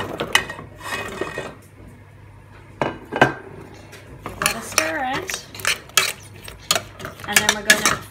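Clattering and knocking in a metal pot as sweet potato and carrot pieces drop in and a utensil scrapes and stirs, in irregular bursts.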